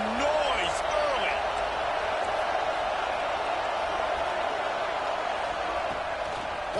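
A college football stadium crowd makes a dense, steady roar that stays loud and continuous throughout, with no break in the noise.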